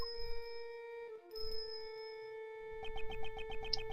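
A ringing bell marks the blind assassin in the video game Ace Attorney Investigations 2. Sustained metallic tones hum under game music, then rapid repeated strikes ring out near the end, moderately quiet and with no speech.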